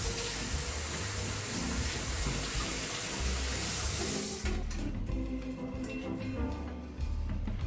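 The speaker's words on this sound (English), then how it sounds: "Then we're gonna wash out the insides." Tap water runs steadily and loudly into a sink while the insides of a red pepper are rinsed out. The broad rushing flow shifts in tone partway through as the stream is moved or broken up, and there is no talk.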